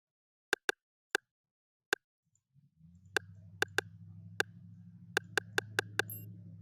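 Sparse, crisp rim percussion hits in a West Coast hip-hop beat programmed in FL Studio, clicking in an offbeat bouncing pattern, then continuing over a low sustained bass layer that enters partway through.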